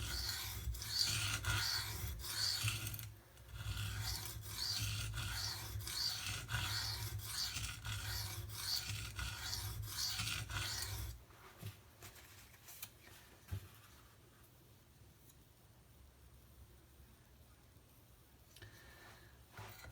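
Spyderco Para 3 folding knife blade drawn repeatedly across a sharpening stone in a steady rhythmic scraping for about eleven seconds, then quieter scattered scrapes and small knocks.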